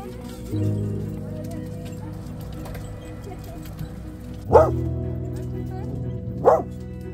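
A dog gives two sharp barks a couple of seconds apart, close by, over a steady low engine-like hum.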